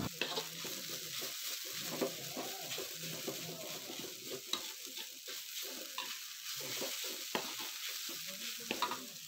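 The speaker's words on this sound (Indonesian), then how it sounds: "Diaduk-aduk, dibolak-balik terus, jangan sampai ada yang gosong atau kering di dasar wajan ya." Shredded coconut serundeng fries in a wok and is stirred continuously, giving a steady close sizzle with soft scraping and stirring scuffs, with no voices.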